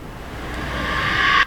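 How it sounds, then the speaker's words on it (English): A washy synth noise riser (Convolve Riser) swells steadily in brightness and volume over about a second and a half, then cuts off abruptly. "this is quite a cool one, the Convolve Riser"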